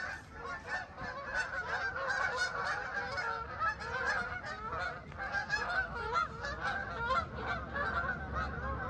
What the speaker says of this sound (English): you can hear the geese going over